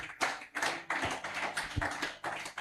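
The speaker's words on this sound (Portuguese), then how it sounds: "Alguém pode aplaudir a Jesus aqui na igreja?" A church congregation claps in uneven rhythmic bursts, loud and close. The applause rises and falls in waves and no speech is heard.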